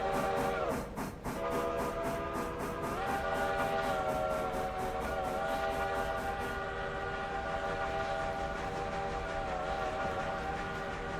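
A train whistle blows at a crossing with a sustained, layered chordal tone that holds steady and loud, accompanied by rhythmic rail clatter that fades off partway through.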